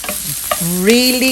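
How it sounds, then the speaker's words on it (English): Jalapeños sizzle and roast in a pan as they are stirred, close and fairly loud, with scraping of a utensil and a rising whine over the frying noise. "You could even see the jalapeños getting nice and roasted."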